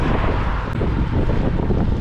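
Strong headwind buffeting the microphone during a long road cycling ride to Zakopane, a loud, steady roaring rumble with no pauses and no voices.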